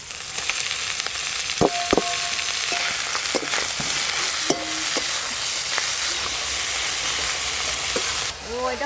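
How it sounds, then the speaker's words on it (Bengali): Steamed banana flower goes onto half-fried prawns in a hot wok, producing a loud continuous sizzle broken by clanking ladle strikes and scrapes against the metal, close up, with no voices. "এবার চিংড়ি মাছের ওপর দিয়ে ভাপিয়ে রাখা মোচাগুলো দিয়ে দেব।"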